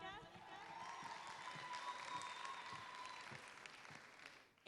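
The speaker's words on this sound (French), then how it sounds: "Alors, on applaudit fort Monica." An audience at a student talent show applauds after a song, a dense, sustained wash of clapping and crowd noise with a ringing tone on top, fading slightly at the end.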